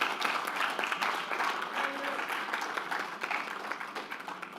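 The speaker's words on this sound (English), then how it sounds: "I think it deserves another round of applause." Shareholders at a company annual general meeting applaud in a steady, dense wash of clapping that fills the room, moderately loud and sustained throughout.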